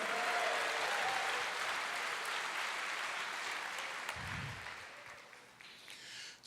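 A church congregation claps in sustained applause that gradually fades, moderately loud and diffuse, with a brief low thump near the end.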